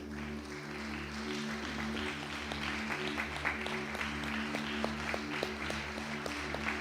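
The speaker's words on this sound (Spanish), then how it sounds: "Dale un aplauso a nuestro Dios hoy" Congregation applauding in a church, a steady wash of many hands clapping over sustained organ or keyboard tones, moderately loud and continuous throughout.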